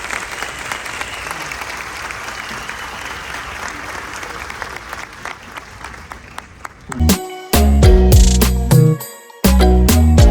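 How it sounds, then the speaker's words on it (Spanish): An audience at the Lima book fair (FIL Lima 2024) applauds for about seven seconds in a loud, dense wash of clapping. Music then starts and plays in loud bursts. "un aplauso enorme para Santiago Castellino"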